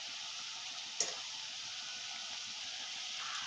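Pazham bonda, round banana fritters, frying in a pan of oil, giving a steady close sizzle throughout with one brief sharp tick near the start.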